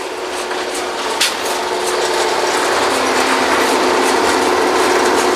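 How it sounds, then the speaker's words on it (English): The drawworks winch of a 2009 Kelly drilling rig runs loud and near, a continuous mechanical roar with rhythmic clanking and ratcheting pulses. "Draw works like a giant winch."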